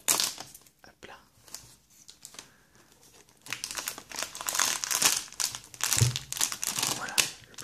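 Crinkling and tearing of the plastic shrink wrapper on a Pokémon Neo Destiny deck, opened from the top, close and soft, with rustling bursts that grow louder in the second half and a faint whisper underneath.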